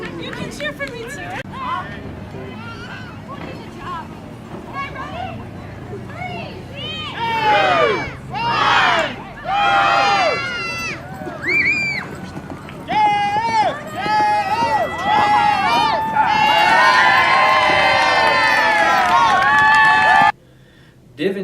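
A crowd at a Renaissance fair cheers and whoops in loud rising bursts over a steady murmur of outdoor chatter, swelling into sustained shouting before cutting off abruptly near the end.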